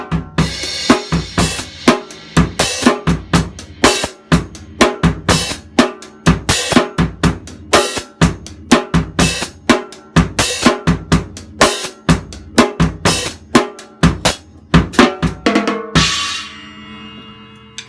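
A drum kit plays a steady syncopated groove in 4/4, with dense, punchy kick, snare and cymbal hits repeating in a two-measure phrase of five-note groupings, close and loud with no voice, ending on a cymbal wash.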